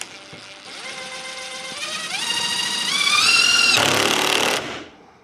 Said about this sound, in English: So I'm gonna put in the two back nailers with a couple of screws right here.